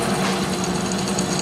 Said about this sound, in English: Slowly lower it, but don't force it and let the drill do its job.